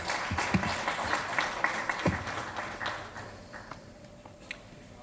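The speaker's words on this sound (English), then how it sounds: "A huge round of applause for Mr. Barry Gardiner, please." Audience applause at the inauguration event for Barry Gardiner, Member of Parliament for Brent North, London: a dense wash of clapping hands with a few sharper claps near the start, fading gradually over several seconds.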